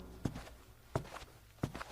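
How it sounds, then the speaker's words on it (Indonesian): Footsteps inside a bedroom: three slow, evenly spaced soft thuds at close range, quiet and alone with no voices. "ia mendengar suara langkah kaki dari dalam kamarnya."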